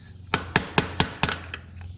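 A hammer drives a chain part onto a Yamaha Banshee 350 ATV, giving six sharp metallic strikes at a steady rhythm, close and clear, then two lighter taps trailing off.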